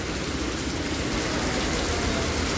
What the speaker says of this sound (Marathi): बघा, जोरात पाऊस चालू आहे.